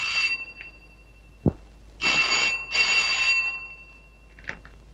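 A telephone rings in a Telugu film scene, with two loud bursts of bright, buzzy bell ringing separated by a short gap, followed by a few faint clicks and no talking.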